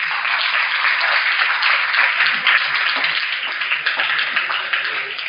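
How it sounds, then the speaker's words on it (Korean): A lecture audience applauding steadily throughout, a dense wash of many hands clapping at once, loud and continuous. "이때는 박수를 쳐야 됩니다"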